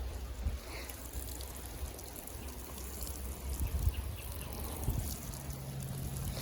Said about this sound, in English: So you can see here how I'm watering them in. It's just a surface water so they connect to the soil.